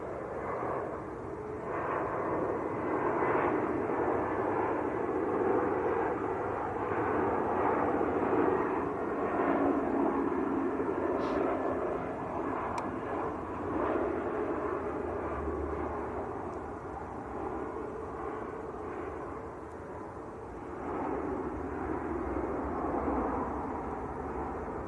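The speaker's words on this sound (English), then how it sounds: "So EasyJet on short finals." easyJet airliner on short final landing at Manchester Airport, a distant, fairly faint steady engine drone that rises and falls gently, heard alone without talk.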